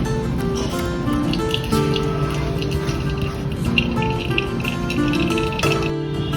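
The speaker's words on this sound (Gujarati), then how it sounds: "હવે રાઈસને આપણે આ રીતે ચાળણીમાં કાઢી લઈશું, જેથી કરીને વધારાનું પાણી નીકળી જાય" Boiled rice is tipped into a sieve, and the excess cooking water pours off in a steady close rush with light metallic clatter and dripping throughout.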